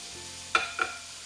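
Tomato goes into a pan of frying onion and spices, giving a soft, close sizzle with two quick stirring scrapes near the end, quiet overall and with no talking.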